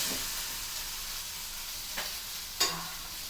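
Jilebi fish frying in a covered pan gives a steady, even sizzling hiss, broken by a couple of sharp clicks near the end.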